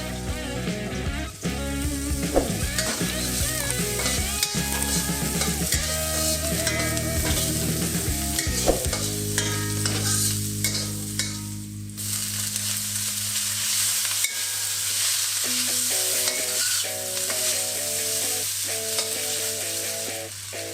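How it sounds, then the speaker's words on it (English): Green onion and garlic frying in hot oil for pad thai, a steady close sizzle with stirring scrapes and clatter over it. "Throw in a piece of green onion to test if it's at heat yet. You want to see it sizzle."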